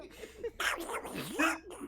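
A dog gives short, soft whimpering and sneezy yips close to the microphone, a brief cluster of small squeaky vocal sounds in a quiet room.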